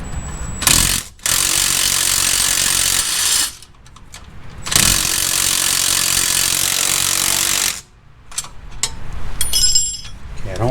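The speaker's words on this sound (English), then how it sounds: "So now we're going to tighten down the pinch bolt" A wrench tightens the pinch bolt on a shock extension of a Jeep Gladiator or JL Wrangler, with bursts of loud, harsh mechanical ratcheting separated by brief pauses and light handling noises.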